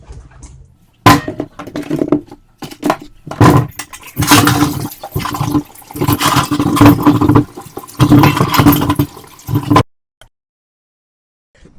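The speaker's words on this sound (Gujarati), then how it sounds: "પોટેટો ને આપણે સરસ 2-3 પાણીથી ધોઈ લઈએ" Potatoes are washed by hand in a large box of water, with loud splashing, sloshing and knocking in repeated bursts for about ten seconds before the sound stops abruptly into silence.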